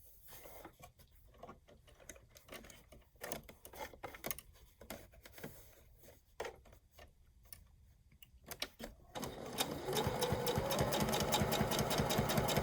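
A sewing machine stitches the bottom seam of a fabric bag, first in short irregular bursts of rapid mechanical ticking, then running continuously and louder toward the end.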